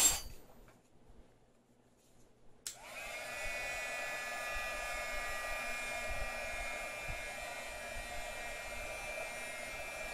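After a few seconds of near silence with faint clinks, a heat gun switches on and blows a steady, whirring stream of hot air onto a Samsung Galaxy Tab 4 display to loosen the touch screen.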